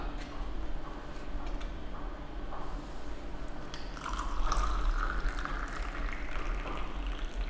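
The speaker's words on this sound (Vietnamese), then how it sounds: "Rót 120ml nước sôi vào bình lọc." About 120 ml of boiling water is poured steadily into a tea filter jug holding a tea bag, making a continuous rushing, splashing pour for several seconds.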